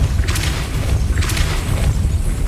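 Two deep booming spell impacts in Hogwarts Legacy, each a low thud with a bright hiss, spaced about a second apart over a steady low rumble.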